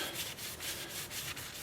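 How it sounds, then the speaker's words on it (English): Sandpaper rubbing on turned wood in short, rhythmic back-and-forth strokes, close and fairly soft, smoothing off sharp points. "Taking a little piece of sandpaper and sanding off sharp little points here and there."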